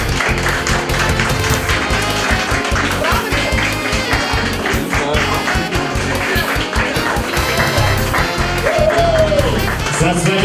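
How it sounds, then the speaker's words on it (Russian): Wedding guests applaud as the couple and their parents come to the table, continuous clapping under loud music and voices, with a host talking. "Аплодисменты нескончаемые"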